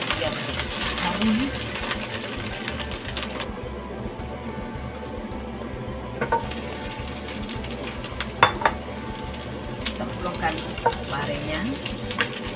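Shallots, garlic and ginger stir-fry in a pan for a bitter melon and beef dish, giving a steady close sizzle with occasional scrapes and clinks of utensil on metal, while a voice speaks over it.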